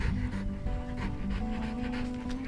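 A dog panting close by outdoors near a river after a run, quick steady breaths repeating rapidly throughout at a fairly quiet level with no talk.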